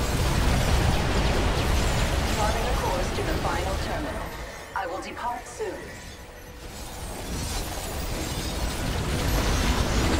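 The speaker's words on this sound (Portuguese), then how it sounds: "Olha os tiros vindo do espaço." Explosions from orbital shots raining down in StarCraft 2 co-op, a dense roaring barrage with crackling bursts that dips briefly in the middle then rumbles back up, under steady game noise and a voice talking.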